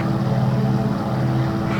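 A WWII propeller plane's engine roars loudly and steadily as it takes off in the IL2 1946 flight simulator, a dense low drone throughout with no pauses.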